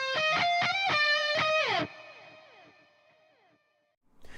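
Harmonized electric guitar solo lines shaped by a focused, precise EQ, sounding as sustained bent notes in a short loud phrase that slides down and rings out, then a brief new attack at the end.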